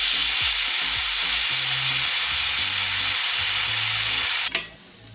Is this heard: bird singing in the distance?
no